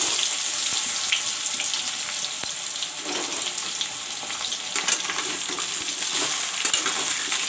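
Drumstick and potato pieces frying in oil with kala jeera and dry red chilies, a loud, dense, crackling sizzle throughout with occasional stirring clatter, and no speech.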